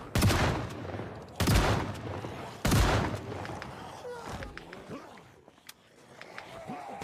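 Three loud, sharp gunshots in a zombie video game, spaced about a second apart and ringing out, followed by quieter clicks and shuffling game sounds.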